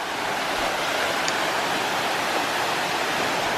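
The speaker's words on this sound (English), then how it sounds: "Let me show you guys this cute little trickle of water." A small trickle of water runs in a stream on a warm day, producing a steady broadband wash with no breaks, loud and close to the microphone.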